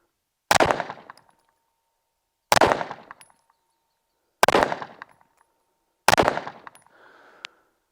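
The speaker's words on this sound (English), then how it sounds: "let's see how I can shoot this gun" Four sharp, loud pistol shots from a Phoenix Trinity, evenly spaced about two seconds apart, each with a short echoing decay, followed by a faint metallic ring after the last.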